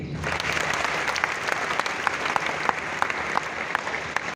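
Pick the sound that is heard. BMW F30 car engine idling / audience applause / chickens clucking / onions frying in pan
audience applause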